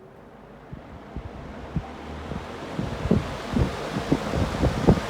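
A vintage avocado green Fasco box fan spins up on high speed, a rising whooshing rush of air that builds steadily to a loud close roar with gusty buffeting pulses.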